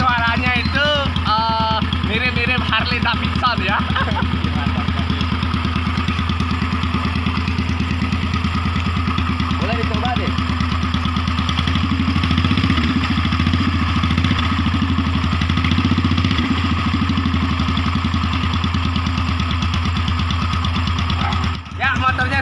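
A flat-tank BSA-style motorcycle fitted with a boat engine runs close by, a steady chugging idle with rattling clatter that holds for about twenty seconds, with brief voices near the start.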